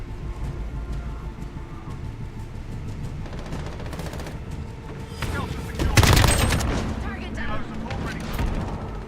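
RPK machine gun fire in a Call of Duty Modern Warfare trailer, dense bursts of gunfire and explosions in a loud cinematic mix that swells midway, with voices heard faintly.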